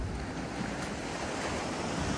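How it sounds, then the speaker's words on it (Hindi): Ocean waves break continuously at Fort Kochi beach, a dense, steady roar of surf with wind noise on the microphone and no pauses. "जब इतनी बड़ी बड़ी लहरें आ रही हैं"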